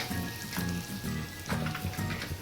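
Green chillies fry in a pan with chilli powder, giving a loud, close, continuous sizzle and crackle with a recurring soft stirring rhythm and no talk.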